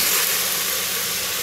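Mutton pieces sauté in a hot pan for a Tamil-style mutton fry, giving a steady, loud broadband hiss of steam and sizzle with no break and no voices.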